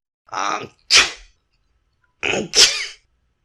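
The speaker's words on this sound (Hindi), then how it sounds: "अब लगातार छींक रहा है कथानायक" Two pairs of loud, close sneezes from a single person during a Hindi audiobook narration, each pair a quick inhale-burst followed by a sharp explosive sneeze, separated by a short silence.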